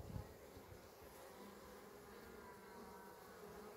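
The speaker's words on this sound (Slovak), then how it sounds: "A tu sa včeli rozbzučali" Carpathian honeybees buzzing in an opened hive during a spring inspection, a faint steady hum of many bees close by, with a small knock at the start.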